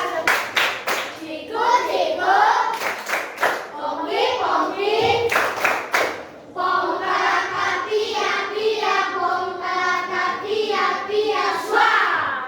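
Children in an Indonesian classroom perform Tepuk Cina, sharp clapping patterns in quick rhythmic bursts mixed with chanted group voices, loud and close.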